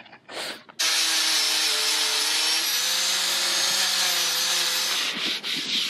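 Power sanding of fresh epoxy filler on a boat rudder with a 4-inch sander, a steady close whirring grind that starts abruptly and runs continuously for several seconds before stopping.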